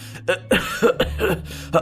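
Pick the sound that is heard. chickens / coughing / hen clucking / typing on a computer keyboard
coughing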